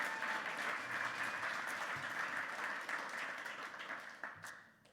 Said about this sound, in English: If you've got hands, clap.